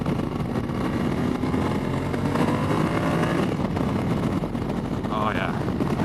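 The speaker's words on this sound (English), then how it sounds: "I think it's safe to say that this is a great engine." A motorcycle still in break-in runs with strong power on the Mt Carleton loop road. The engine drones steadily under heavy wind rush, and the tone rises and falls as the throttle changes.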